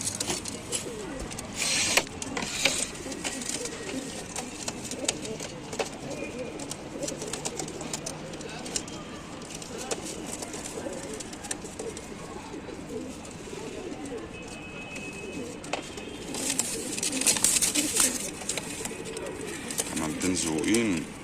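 Pigeons coo softly and repeatedly in a loft among birds kept for sale, a low murmuring under background voices and rustling throughout.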